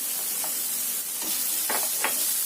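Washed shrimp hit a hot pan and sauté with a steady, close sizzle, broken by a few short scraping stirs.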